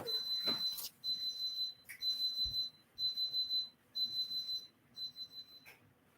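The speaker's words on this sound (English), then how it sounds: "Had to turn off a timer" Kitchen timer set for homemade yogurt beeping in steady pulsed bursts of shrill high tones, about one burst per second, moderately near, before stopping, with faint room noise between beeps.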